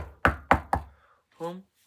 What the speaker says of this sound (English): they knocked on the door of the home